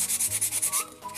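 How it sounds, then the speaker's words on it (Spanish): Sandpaper rubbed over the edges of an album's board cover, quick rhythmic back-and-forth scrapes, about ten close strokes in a row, with no talking. "le pasamos esta lija para ir sacando todos los bordes que nos vayan quedando"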